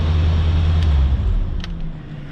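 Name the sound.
1990 Chevy C4 Corvette doing a burnout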